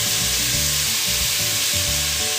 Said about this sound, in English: I'm lazy, so I buy the garlic already minced. Go ahead and put some of that in there.